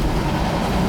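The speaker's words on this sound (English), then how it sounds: "Look at that metro rail." Metro rail train passing through a city, a dense low rumble and broadband roar heard close and loud for under a second, with no voices.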